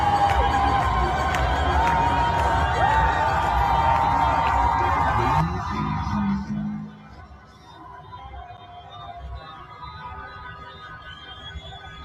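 A large crowd cheers and shouts loudly and steadily for several seconds, then cuts off abruptly, leaving quieter ambient noise.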